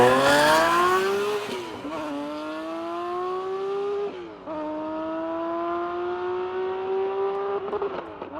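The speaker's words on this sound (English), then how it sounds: "we were all treated to one final surprise race between a Ferrari F40 and this glorious Singer" A Ferrari F40 and a Singer Porsche DLS race each other in a drag run, a loud engine wailing up through rising gears with sharp drops at each shift, close and unbroken by talk.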